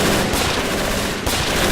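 Machine gun fire rattles steadily in Men of War Assault Squad 2 combat, a dense continuous stream of loud bursts with a short dip in the middle before it resumes.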